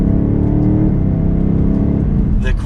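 A 2022 BMW X6 M50i's V8 pulls hard and loud from up close, its rising drone briefly dipping twice as quick gear shifts snap through.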